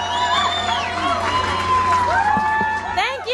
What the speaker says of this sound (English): I want you to give her a nice, heartfelt round of applause.